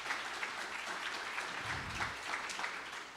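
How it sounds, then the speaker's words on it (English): Conference audience applauding a team, a steady wash of clapping at moderate, fairly distant level with no talk over it. "Yes, please an applause for our team."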